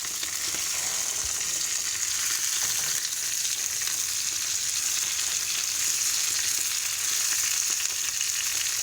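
Fresh spinach cooks in a non-stick pan, sending up a steady, close, bright sizzle that carries through the whole stretch without talk.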